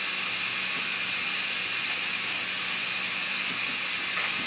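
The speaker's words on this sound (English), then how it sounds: "you're still going to see steam coming out here and there because, like your pressure canner, it's got this weighted valve on top" Steady, continuous steam hiss from the weighted valve on top of a Carey electric pressure canner processing ground beef, loud and unbroken throughout with no talking.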